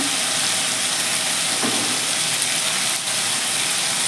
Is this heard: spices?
yes